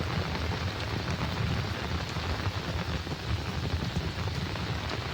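Heavy, steady rain pours down without letup during a long overnight downpour on a farm, a dense continuous wash with nearby splatter on surfaces and no voices.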